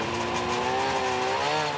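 A snowmobile engine runs steadily in the snowy expanses of Norwegian Lapland, a continuous loud drone with a rising, slightly shifting pitch, close by and alone.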